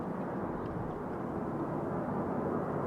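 A steady, distant low roar of a jet aircraft departing Raleigh-Durham International Airport on a takeoff run, broadband and even throughout with no voices.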